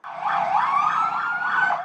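An ambulance siren wails in rising and falling sweeps through a red light on Lawrence Avenue in Toronto, with a police cruiser following close behind; loud and continuous, no talk.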